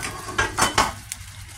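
Water poured into a pan of frying chicken wings, a short burst of loud hissing sizzle with a few scraping stir strokes, then settling into a softer bubbling fry.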